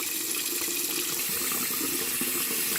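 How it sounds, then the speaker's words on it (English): Running tap water rinses diluted fabric softener out of a 70-year-old Effanbee Honey doll's hair, a steady close gushing and splashing with no pauses or voices. "now that she's had her softener rinse and she's getting all of that rinsed out of her hair"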